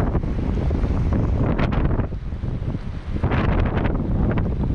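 Strong wind roars through the Darial Gorge in the Caucasus mountains near the Upper Lars border crossing, buffeting the microphone with continuous loud gusts that swell and dip.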